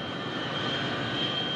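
Jet engines of a Fokker F-28 airliner idling on a taxiway at night, a steady broadband roar with a thin high whine, constant and unbroken, with no voices.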